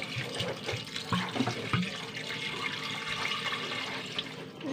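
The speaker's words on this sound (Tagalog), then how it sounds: "Isang litrong tubig ang ilalagay ko." Water runs steadily into a cooking pot for several seconds, about a litre, a continuous splashing gush with a brief gurgle partway through.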